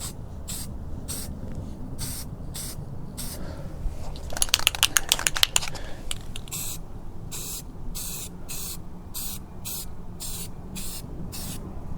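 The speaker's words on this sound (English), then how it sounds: "now it's time to paint it black, and then I can mount it." Black spray paint is applied to a fabricated seat mount in a rapid series of short, hissing bursts, close and clear, with a longer continuous spray in the middle and no talk.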